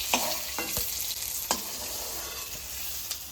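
Pointed gourd frying lightly in oil in a pan, with a steady soft sizzle and a few sharp scraping stir strokes near the start, middle and end; no voices.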